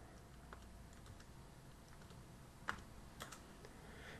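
Keystrokes on a computer keyboard while a command is typed into PowerShell on a Windows computer, heard as faint, sparse clicks scattered over a quiet background with no voices.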